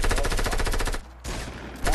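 A tactical shotgun fires rapidly in Fortnite, a dense loud run of blasts that stops for a moment and then resumes, close up and filling the clip with no one talking.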